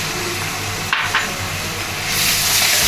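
Garlic and ginger paste frying in hot oil for green chicken, a continuous sizzle with a couple of brief clinks from a utensil against the pan, and the hiss swelling slightly toward the end.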